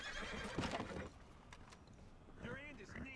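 A horse whinnies loudly near the end of a video game hunting scene, its neigh rising and wavering after a stretch of muffled game ambience.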